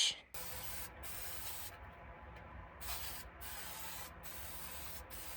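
Permatex rust treatment sprayed from an aerosol can onto rusty metal inside a 30-year-old shop truck, heard as a steady close hiss broken by several short pauses between bursts.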